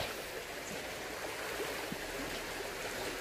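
Water rushes steadily along a stream, a constant broad hiss of flowing water with faint gurgles and no voices.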